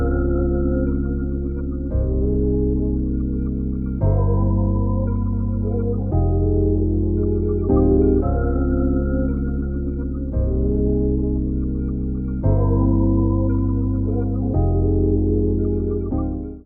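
A music sample run through a tape machine and a FabFilter Pro-L limiter plays alone, warm low-mid chords changing every two seconds in a steady, dense, loud loop with dull, rolled-off highs.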